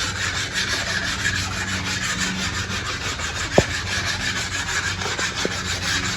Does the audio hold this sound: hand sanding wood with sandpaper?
yes